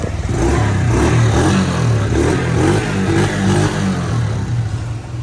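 A Kawasaki Mojave 110 ATV engine fires up and runs loud and close, with a steady low throbbing idle and a few throttle swells and faint mechanical clatter throughout.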